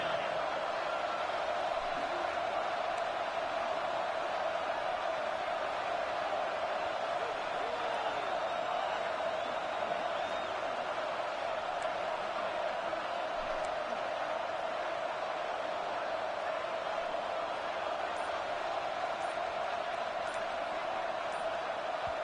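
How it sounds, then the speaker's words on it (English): A packed stadium crowd at a football game keeps up a continuous, dense roar, steady and loud throughout, with no clear breaks or peaks. "the crowd forces a false start"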